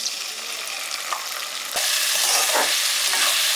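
Potatoes and onions sizzle steadily in a pan as ginger-garlic paste is added, with a constant frying hiss that grows louder partway through and is broken by a couple of sharp stirring clinks.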